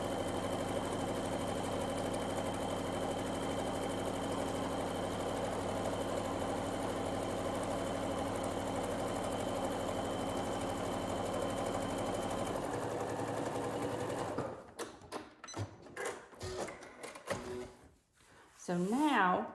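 Sewing machine running steadily while stitching a second row of seams on an envelope pillow, a continuous close mechanical whir that stops after about thirteen seconds, followed by handling clatter and rustling.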